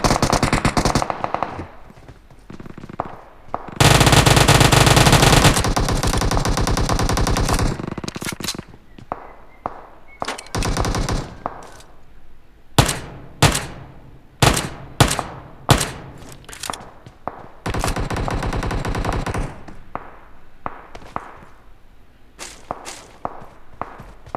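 Rapid automatic gunfire from a UMP-style submachine gun in PUBG Mobile, with a long sustained burst early on, then loud, close, scattered shots and short bursts.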